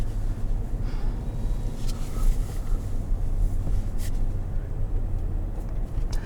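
A 2021 GMC Yukon Denali with a 10-speed automatic is driven, giving a soft, steady low engine and road rumble with a little wind noise from inside the cabin.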